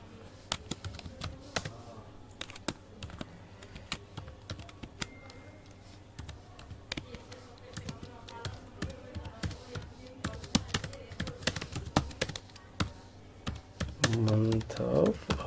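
Fingers tap quick, uneven bursts of keystrokes on a computer keyboard while entering a ledger narration, close and fairly quiet, with a voice speaking briefly near the end.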